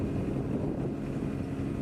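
A Kartar 3500 harvester moving in a field gives a steady, loud low engine rumble with wind buffeting the microphone, continuous and close throughout.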